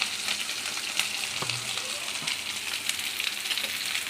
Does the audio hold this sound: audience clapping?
no